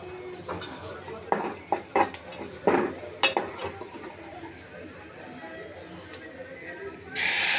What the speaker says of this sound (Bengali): শাকগুলো দেওয়া হলে একটু নেড়ে নেব